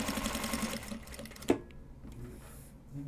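Sewing machine stitching a card holder made from Japanese fabric, quiet rapid whirring for about a second and a half, then a sharp click and softer handling sounds.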